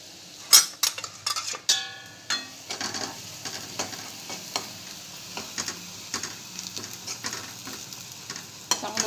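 Garlic and coconut paste frying with ridge gourd in a pan, sizzling steadily while a spoon stirs and clinks against the metal in irregular scrapes and taps, close and alone.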